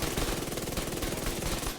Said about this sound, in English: Keep firing, just keep firing.